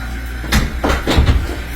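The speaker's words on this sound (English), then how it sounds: "This door will be closed." A door in a treatment room at a colonic therapy clinic shuts with a few close, sharp knocks and a latch click in quick succession.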